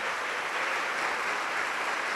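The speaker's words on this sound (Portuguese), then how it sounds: "Então vamos dar a melhor salva de palmas para esta palavra." A church congregation applauds together during a sermon in Mauá, a steady, dense wash of clapping that holds at one level throughout, with no voices above it.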